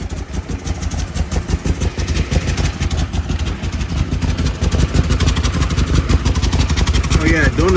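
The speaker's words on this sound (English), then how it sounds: "she does sound like she has some exhaust issues" A 2008 Ford Expedition engine runs close by with a blown exhaust donut gasket, giving a steady rough idle and a rapid ticking, puffing exhaust pulse throughout, with faint voices now and then.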